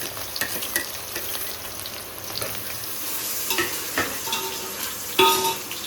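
Hot oil for chicken korma sizzles steadily in a pot, a dense continuous crackle with scattered louder pops and a sharp burst near the end, close and fairly loud with no talk.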